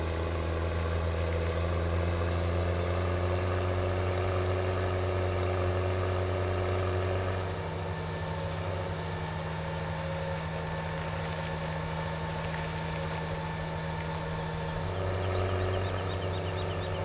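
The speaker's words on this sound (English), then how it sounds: "Tractor really doesn't like climbing the hill, even with this small load in here." A tractor engine in Farming Simulator 17 labors uphill through a forest area with a small load, droning loud and steady, its pitch dipping midway as it strains, then rising again.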